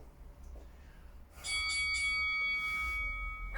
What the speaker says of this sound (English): 10 seconds and the bell's about to begin